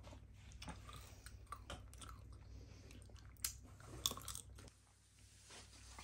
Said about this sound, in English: This pops in your mouth if you keep it in your mouth longer.